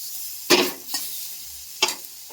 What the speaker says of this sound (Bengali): এইভাবে অল্প তেল দিয়ে বেগুনগুলোকে গ্যাস কমিয়ে ভেজে নিয়েছি।